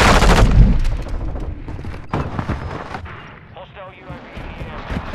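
Vicious, punchy gunfire from Modern Warfare II, with loud rapid bursts at the start and further sharp shots spread through, mixed with other game effects and some voice.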